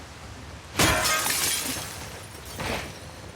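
Glass shatters in The Last of Us Part 2, a sharp loud crash followed by scattering fragments and a smaller second burst of breaking glass near the end.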